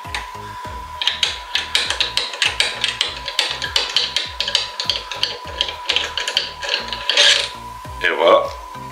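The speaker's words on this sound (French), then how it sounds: "On peut dévisser." A ratchet turning out the oil drain plug on a WIDESCAPE WS250, giving a steady run of quick clicking strokes close by, with a brief scrape and clatter near the end.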